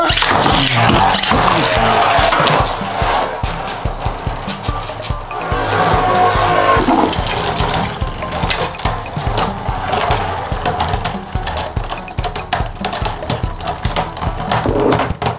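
Beyblade Burst spinning tops, including a Rage Longinus, whirr and grind loudly in a plastic arena, with rapid rattling clicks of repeated collisions that thin out and fade as the spins weaken, then swell again.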